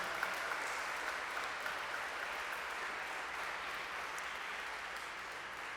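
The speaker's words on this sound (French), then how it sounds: "je pense que ça mérite une bonne main d'applaudissement" Sustained applause from an audience inside a church, a dense even clatter of many clapping hands that holds steady throughout, fairly distant and soft.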